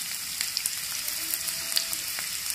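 Onions fry in a little oil in a pan for a mushroom red stew, a steady close sizzle with scattered small pops and crackles throughout.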